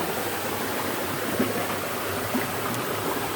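Water flows in a stream beside a hiking trail in the Cape Breton Highlands, making a steady, broad rushing wash at moderate loudness, with occasional faint knocks over it.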